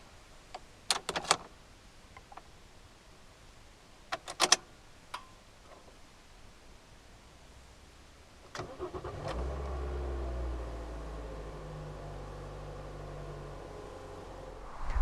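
A few sharp clicks and thuds, then the engine of a 2014 Toyota Avensis 1.8 Valvematic cranks and catches with the door closed, settling into a steady idle that runs to the end.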